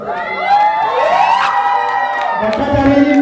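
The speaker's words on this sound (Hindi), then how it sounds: "और एक बार चिल्ला के इनके लिए तालियां बजाएं।" Crowd at an award ceremony cheering and whooping with high shouts and scattered applause, a loud continuous burst lasting a few seconds.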